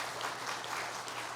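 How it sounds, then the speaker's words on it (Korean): A church congregation at a Korean Presbyterian Sunday service applauds, with steady, dense clapping filling the room, held at an even level throughout. "큰 박수로 축하해 주시기 바랍니다"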